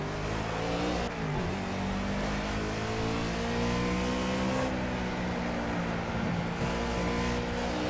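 A NASCAR-style cup car from the Project Cars US Cars Expansion Pack, all horsepower with no downforce and four gears, roars close by, its engine revving continuously and dipping briefly between gear changes before climbing again.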